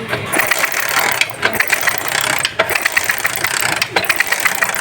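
A 70cc motorcycle engine being kick-started during a spark plug misfire test, repeated ratcheting mechanical clatter of kick strokes with engine turnover bursts, loud and close with no talk.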